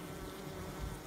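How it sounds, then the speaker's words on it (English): A dense, steady buzz of bees fills the scene of a high school drama club stage play, a continuous droning hum without pauses or voices. "Once you've entranced the bees with your scent, you need to lead them outside"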